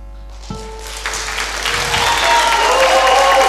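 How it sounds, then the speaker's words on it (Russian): Audience applause at the Койташ 2019 awards show, rising after a brief opening hum into steady, dense clapping from a crowd that swells and holds loud. "аплодисменты!"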